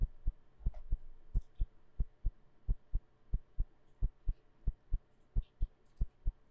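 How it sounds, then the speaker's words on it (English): A steady, muffled heartbeat thumps in the horror video game The Stalked, beating regularly at roughly two to three beats per second against a quiet low hum, with no talking. "It's quiet and there's a heartbeat."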